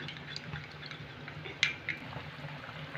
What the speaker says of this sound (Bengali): ময়দাটা আমি এবার গুলে নিলাম।